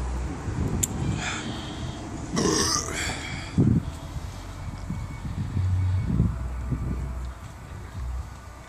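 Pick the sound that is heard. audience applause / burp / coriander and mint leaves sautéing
burp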